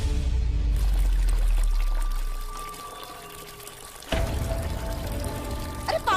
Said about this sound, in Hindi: अरे देखो तो कितना पानी बह रहा है।